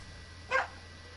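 A dog in the Fortnite video game gives a single short bark, faint and brief, with no one talking over it.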